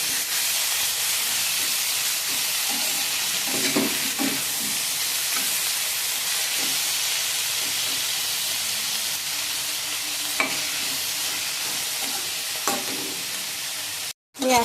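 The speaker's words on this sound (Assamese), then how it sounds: "কৰ্দৈখিনি অলপমান ভাজি ল'ম, বেছি ভাজি নলওঁ" Star fruit (kordoi) for a sweet pickle sizzles steadily in a pan with a continuous hissing fry, punctuated by a few soft stirring scrapes.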